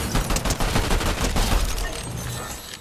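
Pistol gunfire in the Fortnite video game: a loud, close burst of rapid shots cracking one after another for about two seconds, then easing into a fainter tail.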